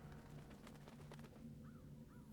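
Crow cawing in the video game Dreamfall: two short, rasping caws in quick succession, fairly close, over a steady low ambient hum.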